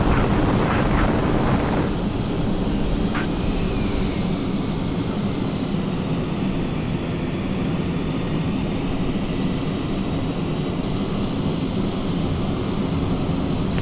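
An F-35B jet engine at an airfield on a very windy day, a loud continuous roar with a steady high whine that slowly shifts pitch, wind buffeting the microphone, no speech.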